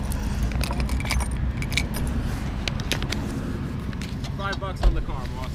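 A bunch of keys for sale at a flea market jangles briefly near the start, close and crisp, under steady outdoor background noise and people talking nearby.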